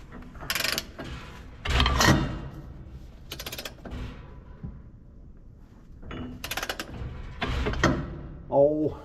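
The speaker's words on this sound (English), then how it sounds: "So now we just sit here and ratchet until it begins to snap." Torque wrench set to 100 foot-pounds ratcheting on a bolt of a Gleaner R52 combine rotor, in several separate bursts of sharp metallic clicks with quieter pauses between them.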